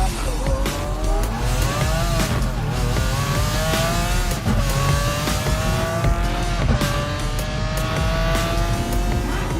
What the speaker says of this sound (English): Launch control. ESC off, Corsa mode, brakes to the floor, gas to the floor,